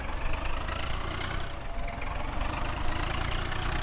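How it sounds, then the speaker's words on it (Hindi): A Swaraj 855 tractor engine idles at normal rpm in Farming Simulator 19, a steady, loud, low mechanical drone with a knocking pulse and no talking. "नॉर्मल आरपीएम पे चलता है ट्रैक्टर"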